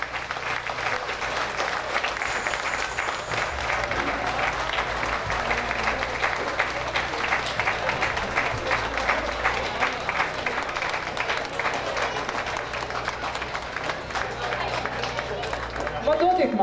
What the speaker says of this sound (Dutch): een groot applaus voor de renners